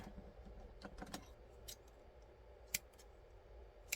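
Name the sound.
trimming a cardstock scorpion tail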